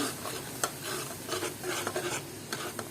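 Spices and salt are stirred in a pan over heat, a soft continuous scraping and sizzle with occasional louder taps of the spoon against the pan.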